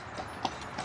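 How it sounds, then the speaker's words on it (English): Hooves of a horse clip-clop at an outdoor Christmas light display among trees at sunset, a few soft, spaced clops that are faint and fairly distant. "you hear the click of the hooves of the horse"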